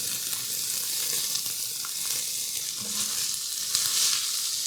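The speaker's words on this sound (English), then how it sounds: "I'm just going to saute this here. And we're going to put in some thyme." Thyme and rosemary sauté in hot oil in a Dutch oven, a steady crackling sizzle with light stirring scrapes throughout, close and fairly loud, no talk.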